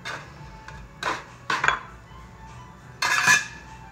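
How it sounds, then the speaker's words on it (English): A pizza scraper knocks and scrapes on a kitchen countertop while a veggie pizza is prepared, giving four short clattering bursts, near and fairly loud, with quiet gaps between them and no talking. "I got my pizza scraper."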